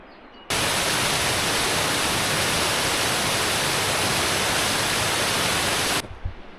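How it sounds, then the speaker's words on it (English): A waterfall on a forested mountain trail roars as a dense, constant rush of falling water. It starts suddenly, holds at an even loudness for about five seconds and then drops away. "A lot of blowdowns in here, but really beautiful waterfalls."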